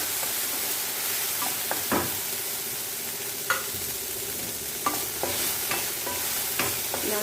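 Soaked sago pearls fry in ghee in a pan with a steady, even hiss, broken now and then by a few sharp stirring clicks, close and alone with no talking.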